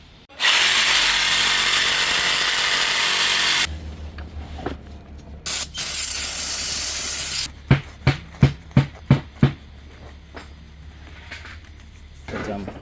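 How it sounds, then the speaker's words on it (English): A Sawzall reciprocating saw roars loudly for several seconds, cutting the threads of a brake stud on a Dodge Durango GT during a Brembo brake install. After a pause comes a second burst, then a run of sharp metallic knocks. "I'm gonna use this sawzall to cut the threads."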